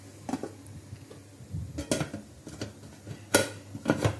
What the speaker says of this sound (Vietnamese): Các bạn cho lại vô nồi.